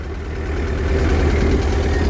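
An old 1952 tractor engine idling in the cold, a loud, close, steady low rumble with an even throbbing pulse and no voices.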